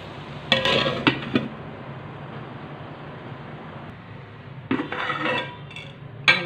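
A lid clatters onto a pan of frying okra with a couple of metallic clinks, then a quiet gap, then another burst of close pot-and-lid clattering and a final clink.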